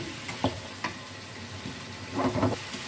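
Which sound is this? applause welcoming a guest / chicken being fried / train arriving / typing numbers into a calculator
chicken being fried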